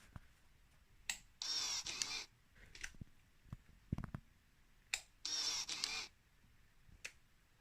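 The power valve servo on a 2000 Yamaha DT125R motorbike whirs in two short motorized bursts as the key is turned, separated by quiet gaps with small clicks nearby.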